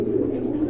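White Homer pigeons give a brief, low, throaty coo up close, one short sustained murmur.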